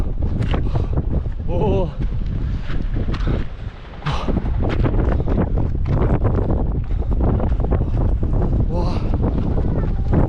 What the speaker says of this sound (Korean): 와 바람 너무 많이 불어.